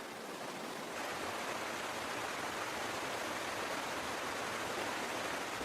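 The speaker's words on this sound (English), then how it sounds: "The torrent charges through the narrow gorges of the ranges," A broad, constant roar of rushing water, dense and unbroken, like a strong torrent surging steadily.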